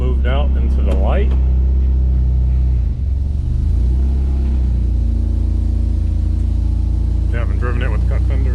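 A car engine idles with a steady low rumble, then is revved and warmed up before driving, its drone continuing throughout while voices talk over it intermittently.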